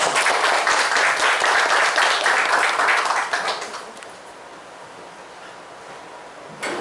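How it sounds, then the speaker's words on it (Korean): Audience applause at a civic education and human rights forum, dense and steady for a few seconds before thinning and dying away into a quiet room. "박수"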